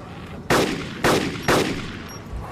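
Three loud rifle shots from the DayZ video game crack out at roughly half-second intervals, each a sharp broadband burst with a short decaying tail, set against a steady low background hum.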